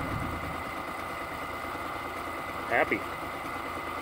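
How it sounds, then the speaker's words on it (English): Small outboard-style boat motor idling steadily after starting, a continuous mid-pitched drone close by with a brief louder blip near the end and a short spoken word over it. "it's starting to idle down good"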